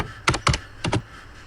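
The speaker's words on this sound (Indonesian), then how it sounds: "Di sini ketikkan Quranic Audio." Three quick clusters of keystrokes on a computer keyboard, close and crisp, with short pauses between the bursts of clicking in a quiet room.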